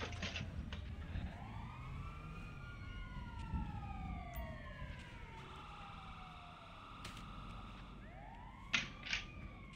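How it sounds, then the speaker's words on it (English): A police siren in the video game GTA V wails up and down continuously, joined by a second siren, over a low rumble with occasional sharp thumps near the end. "I can hear the sirens."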